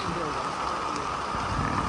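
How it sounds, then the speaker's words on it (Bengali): Heavy rain falling on a trawler out on a wetland, a dense steady hiss and patter close by, with a voice partly under it. "বৃষ্টি মানে আকাশ ভেঙে বৃষ্টি নামছে।"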